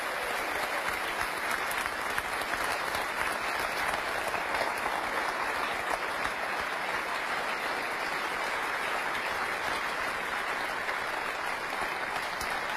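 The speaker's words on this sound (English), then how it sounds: "A round of applause for your new Premier League champion," Sustained applause from an arena crowd at a Premier League snooker ceremony in Grimsby, greeting champion Stuart Bingham in 2012, steady and dense throughout with no voices over it.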